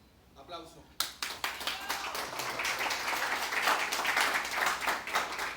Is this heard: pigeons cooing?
no